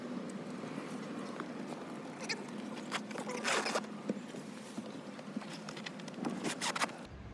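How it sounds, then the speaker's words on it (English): Zipping the three front windows of a Sea Ray Sundancer slope-back boat canvas: a series of short, close zipper rasps and scrapes with brief pauses between pulls, heard alone. "Zipper the 3 front windows"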